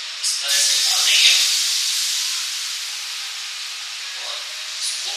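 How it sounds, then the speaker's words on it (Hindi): Spinach stem chila batter poured into hot oil in a pan sizzles and hisses steadily, a loud bright crackle that flares at first and then settles into a continuous frying hiss. "अब ये जो बैटर हमने तैयार किया है ये बीचों बीच इस तरह से डाल देंगे"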